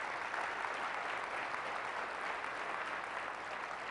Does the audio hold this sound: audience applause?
yes